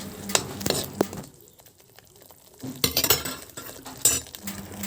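A metal spatula scrapes and clinks against a pan while frying onions are stirred with ginger-garlic paste and meat masala for a paneer and cherry tomato dish. Irregular close clatters come in bursts, with a quieter stretch in the middle.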